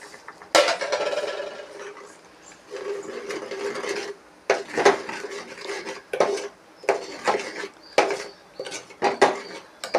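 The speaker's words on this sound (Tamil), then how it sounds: "தக்காளி சேர்த்து வணக்கிட்டுருக்கேன்" Tomatoes being sautéed with chilli powder, cinnamon-cardamom powder, coriander powder and salt in a pan for a cabbage kurma, with repeated scraping and stirring clatter of a utensil against the pan, close and fairly loud, no voices.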